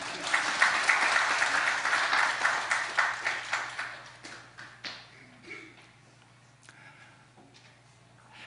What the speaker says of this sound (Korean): 우리 하나님과 죄인에게 박수 한번 보내주십시오.